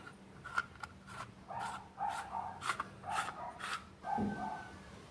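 Murukku dough is pressed through a mould on a wooden block, a series of about eight rhythmic, close squeaky rubbing strokes with short pauses between them, then one lower scrape at the end.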